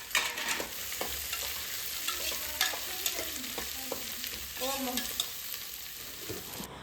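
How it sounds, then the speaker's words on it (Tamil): Sliced onions sauté in hot oil for tomato rice while a spatula stirs them, giving a steady close sizzle broken by repeated scraping and tossing strokes across the pan. "இனி இந்த வெங்காயத்தை நல்லா வதக்கணும்"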